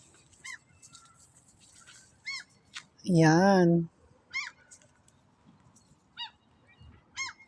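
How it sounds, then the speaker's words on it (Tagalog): A loud, harsh honking bird call bursts out for nearly a second, with shorter distant calls scattered before and after and a quiet voice at one point. "Maingay yung ibon guys."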